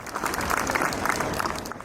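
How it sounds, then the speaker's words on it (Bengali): Steady, dense applause from a large crowd at the South Plaza of the Parliament building, an even wash of clapping that holds throughout the short stretch. "সংসদ ভবনের দক্ষিণ প্লাজায় তখন মুহুর্মুহু করতালি।"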